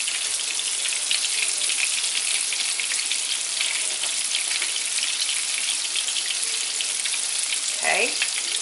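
Zucchini fritters fry steadily in a pan, a loud, continuous dense sizzle and crackle that holds evenly throughout, with a brief soft scrape near the end.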